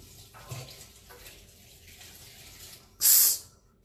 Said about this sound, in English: Yeah, we're gonna wash our hands. Wash them thoroughly.